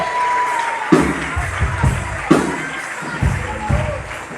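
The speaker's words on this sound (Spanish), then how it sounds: "Aplaude, joven." A church congregation claps in a loose rhythm, with sharp bursts of applause and some voices mixed in, over a steady background hum.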